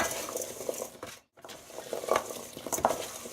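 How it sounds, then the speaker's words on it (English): Oiled vegetables being stirred with a spoon in a bowl, giving close scraping and soft clattering strokes with a brief gap partway through and no talking. "because we'll have our veggies tossed in the oil. Just give it a really good stir."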